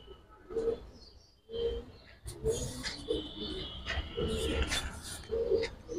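A Giribaz pigeon coos in a loft, several soft, low repeated coos close by, mixed with faint chirps from other birds and background noise.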